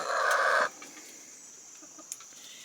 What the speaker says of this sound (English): So strange chickens they are.